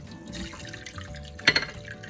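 Hot water pours off boiled potatoes into a sink, a soft running trickle with a short louder splash in the middle, fairly close and alone.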